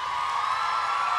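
A live comedy show audience cheering and whooping for Drew Gooden and Danny Gonzalez, a brief, steady wash of crowd noise with high shouts, fairly loud and continuous.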